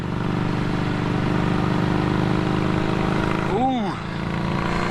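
A Honda Street 500 motorcycle on a test ride, with a steady engine drone and wind rush up close, and a brief rising-and-falling engine note near the end.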